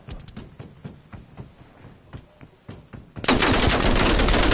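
Rapid M4 rifle fire in a multiplayer shooter video game, several short bursts followed by a loud sustained spray of automatic gunfire at the end, close and dominant with no speech over it.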